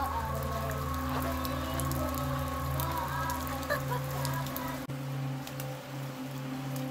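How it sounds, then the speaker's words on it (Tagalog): Steady rain patters on a surface with scattered drips, a continuous wash over a low background hum, no voices. "Yes, umuulan."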